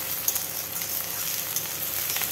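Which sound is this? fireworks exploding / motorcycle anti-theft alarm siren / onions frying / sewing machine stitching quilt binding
onions frying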